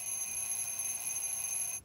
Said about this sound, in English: Just then, Louie's egg timer begins to ring.